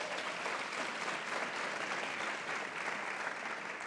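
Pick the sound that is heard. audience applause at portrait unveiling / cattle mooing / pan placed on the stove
audience applause at portrait unveiling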